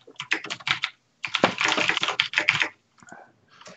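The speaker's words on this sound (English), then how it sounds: "Stop typing." Fast typing clatters on a computer keyboard, loud and close, in dense bursts of keystrokes separated by brief pauses, with a few scattered taps at the end.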